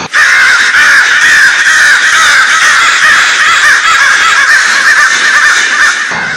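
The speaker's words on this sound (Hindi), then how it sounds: "आसमान में चांद के आसपास उड़ रहे थे ढेर सारे कौवे, और इसके साथ ही उनके कांव कांव की आवाज से पूरा वातावरण गुंजायमान हो चुका" Many crows cawing together as they circle around the moon at night, a dense, loud, continuous chorus of harsh caws filling the air.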